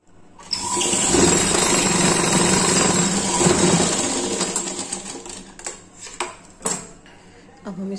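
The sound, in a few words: sewing machine stitching fabric for a doll dress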